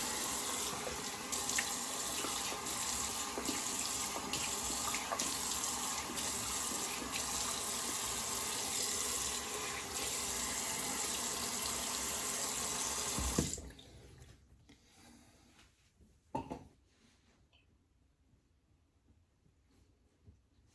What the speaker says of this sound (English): Go ahead and rinse this off.